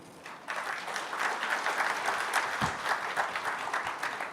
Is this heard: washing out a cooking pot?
no